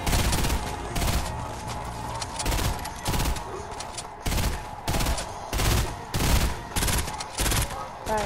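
Rapid repeated gunfire in a video game, sharp bursts at an uneven rhythm across the whole stretch, loud and close with no talk over it.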